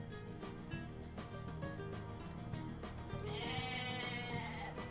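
Goats bleat repeatedly over a busy background of game music and effects in Age of Mythology, with one long wavering bleat toward the end.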